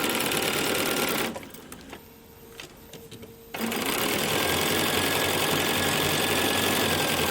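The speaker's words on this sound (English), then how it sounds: "I'm sewing down one side, making sure that both of these edges line up perfectly." A sewing machine runs fast and steadily while stitching the seam of a quilt block, pauses briefly with a few light clicks, then resumes the same close, even whirring.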